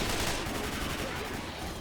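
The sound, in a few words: gunfire in the video game Left 4 Dead 2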